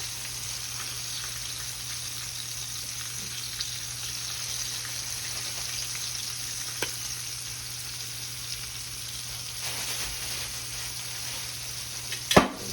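Breaded shrimp and oysters frying in hot oil make a continuous bright crackle and sizzle, with a steady hum beneath and a sharp clatter near the end.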